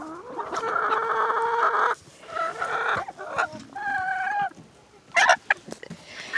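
Turkeys clucking in a farmyard: several close bursts of throaty clucks and gobble-like calls come in uneven clusters with short pauses between them, alone without talking.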